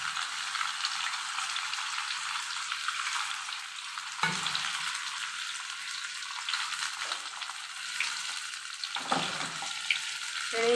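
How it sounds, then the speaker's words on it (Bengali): Chicken pieces fry in a little hot oil for a malai curry, with a constant bright sizzle, several bursts of spattering as pieces are added and turned, and no talking over it. "একটু হালকা করে এপিট ওপিট ভাজা করে নেব আমি।"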